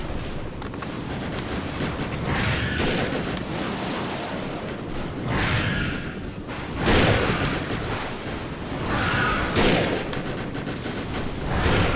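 Loud sniper rifle shots in the video game Defiance boom one at a time every few seconds, each with a heavy echoing tail, amid a busy, noisy game soundscape.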